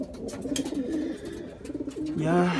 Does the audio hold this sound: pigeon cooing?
yes